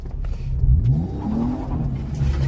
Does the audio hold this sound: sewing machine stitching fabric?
no